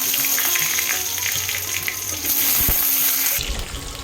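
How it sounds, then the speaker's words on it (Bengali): Cut potato pieces frying in hot oil seasoned with panch phoron, a steady loud hiss and crackle throughout, with a brief clatter near the middle and no talking. "আলুগুলো একটু ভেজে নেব।"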